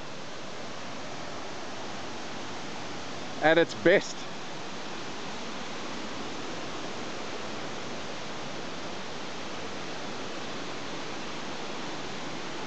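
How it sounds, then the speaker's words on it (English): Cascading step waterfall at Lagoon Creek Falls near Bilpin, a steady broadband roar of falling water that stays constant throughout, with a brief spoken remark early on. "you can hear a massive waterfall here"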